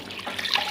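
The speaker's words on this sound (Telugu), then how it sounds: "నీళ్ళు వేసుకున్నాం" Water poured into a vessel of idli rava, a brief splashing gush with no voices.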